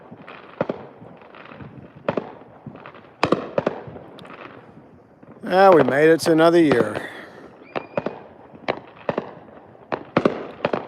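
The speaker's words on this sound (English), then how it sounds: "there's more fireworks going off to the right" New Year's Eve fireworks seen from a balcony: sharp irregular bangs and pops, some near and some farther off, with a person talking and cheering in the middle.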